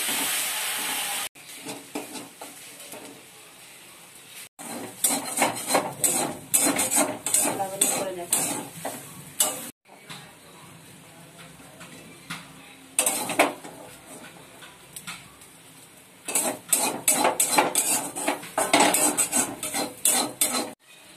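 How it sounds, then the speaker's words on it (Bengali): Fresh jute leaves being stirred and fried in a pan with whole green chillies, close scraping and clinking of a utensil against the pan in repeated bursts over a steady frying hiss. "এবার এইভাবে শাকটাকে হালকা করে হালকা আছে ভাজতে হবে, নাড়িয়ে নাড়িয়ে।"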